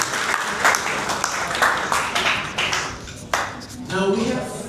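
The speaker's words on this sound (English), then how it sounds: "Let's give a round of applause for Bapak Diar." Audience applause at a corporate security event, a broad wash of clapping that swells and fades over several seconds.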